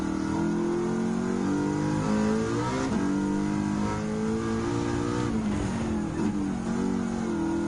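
Race car engine in Gran Turismo 7 during an American Clubman Cup race, a loud continuous revving drone with rising pitch sweeps as it accelerates and shifts through the gears, with no talking.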